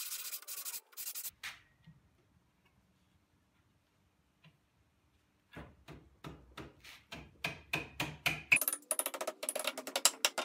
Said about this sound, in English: I cleaned up the tenons with a rasp file and a sanding block